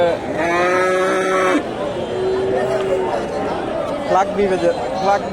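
Cattle, Friesian bulls among them, low loudly several times nearby amid the busy chatter of a crowded cattle market, with people talking throughout.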